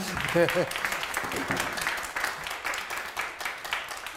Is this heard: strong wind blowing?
no